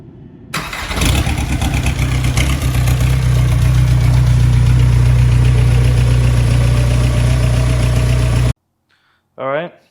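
A Volkswagen TDI diesel engine cranks and catches, then settles into a loud, steady idle with a low rumble and clattering knock close by, before cutting off abruptly, followed by a short separate noise.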